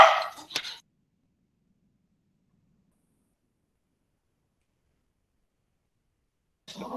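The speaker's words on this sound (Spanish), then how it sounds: "el perrito está dando bullita" A small dog barks in two short bursts, one at the very start and one at the end, with near silence between them, heard indoors during an online class.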